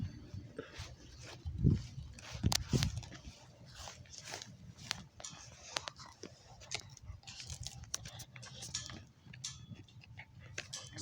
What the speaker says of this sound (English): It's like an ASMR for a dog chewing a coconut.